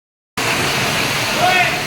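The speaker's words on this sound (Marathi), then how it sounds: "आज लय पाऊस सुरू आहे आमच्या इकडं" Heavy monsoon rain in Surat with water flowing through a residential lane, a steady loud broadband rush starting abruptly after a brief silence and continuing evenly.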